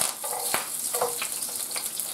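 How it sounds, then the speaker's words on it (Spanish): Garlic sizzles in hot oil in a pan as it is added, a steady bright hiss with a few soft clinks and stirring scrapes laid over it. The sound is close and fairly quiet, and no one talks. "Ahí van los ajitos, se van rehogando."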